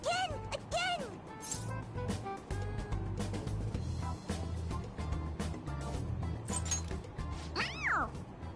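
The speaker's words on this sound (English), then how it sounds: "It meows when you press on its head." A toy cat in the Persona 5 Royal video game meows when its head is pressed. Quick meows come at the start and another near the end, with busy game background sound in between.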